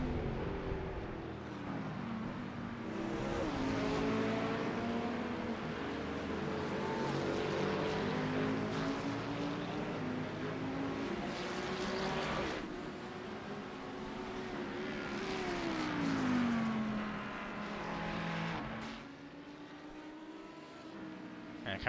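GT3 race car on a hot lap around the Nurburgring GP circuit in iRacing, its engine note rising and falling steadily through gear changes for the full stretch, loud and close, with faint talk underneath.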